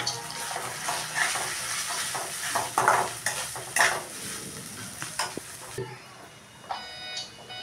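Carrots fry and sizzle in a pan for carrot fried rice, with a steady hiss and repeated scraping stirs of a spoon up close, then the frying quiets and goes thinner toward the end.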